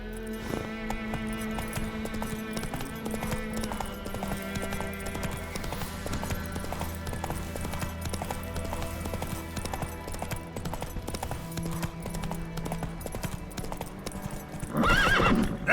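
Roach, a horse in The Witcher 3, clip-clops at a steady gallop over game music, then lets out a loud, close neigh near the end.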